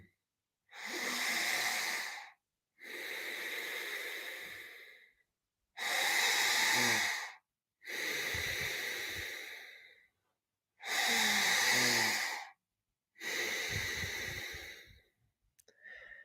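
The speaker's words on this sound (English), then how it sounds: "Starting to really take some deep breaths. We can breathe through our nose or our mouth here." Deep breaths drawn through the nose or mouth during a breathwork session: six long, loud breathy inhales and exhales, close and rhythmic, separated by short silences.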